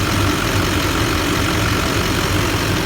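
A hot diesel engine idles close by during an air-conditioning check after a hose replacement. It gives a loud, constant low rumble with no break.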